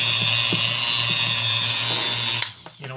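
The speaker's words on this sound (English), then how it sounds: "we're going over this with a coarse disc" A power tool fitted with a coarse disc grinds with a steady high whine for over two seconds, then spins down and stops, with faint rhythmic ticks under the running tone.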